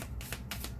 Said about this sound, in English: I have to shuffle them in sections so I don't damage the card.